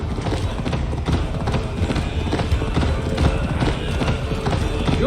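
Rapid, continuous hoofbeats of a galloping horse in Assassin's Creed Valhalla pound steadily throughout, loud and close, with a brief whinny mixed in.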